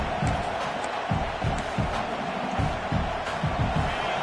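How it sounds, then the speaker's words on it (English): A football stadium crowd gives off a continuous broad roar with rhythmic low thumps pulsing through it, heard as steady background noise with no clear individual voices. "This crowd bringing the energy and noise early."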